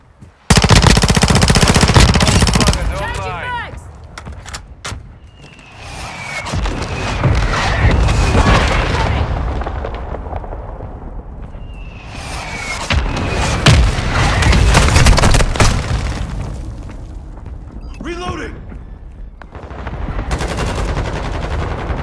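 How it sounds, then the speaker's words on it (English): Mortar explosions and heavy gunfire from Call of Duty Modern Warfare II, with a loud burst of rapid automatic fire up front, then booming blasts, cracking shots and rumbling impacts across a dense, continuous battle soundscape. "Hostile mortar strike in the area."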